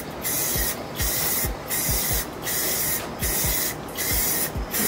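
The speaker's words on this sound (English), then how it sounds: "let's go ahead and put this coat of Rustoleum Gloss Black on" Rust-Oleum gloss black spray paint goes on in short, close hissing bursts, about seven even sprays with brief pauses between them and faint taps underneath, with no talking.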